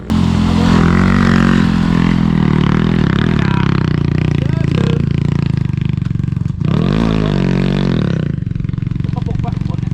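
An enduro motorcycle engine revs in neutral on a mountain trail, a loud close roar that rises and falls through several throttle blips, with people talking over it.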